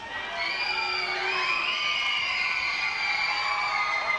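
A large crowd cheers and shouts in a sustained, swelling roar for a Fiji vs Samoa lightweight boxing match at the 2003 South Pacific Games.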